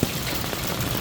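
Rain and hail fall in Yafa al-Muflihi, Yemen, in July, with the ground turning white: a steady, dense patter of drops over a low rumble, heard alone for about a second.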